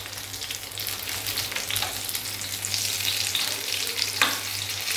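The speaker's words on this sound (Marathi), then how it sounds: "आता अशा प्रकारे मी सर्व मिरच्या व्यवस्थित पलटी करून घेते." Besan-stuffed green chillies fry in a pan with a steady, close sizzle while they are flipped over one by one, giving a few soft scrapes and a brief sharper clatter near the end.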